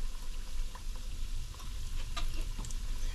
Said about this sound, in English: You fry them, maybe a minute and a half on each side until it's nice and golden brown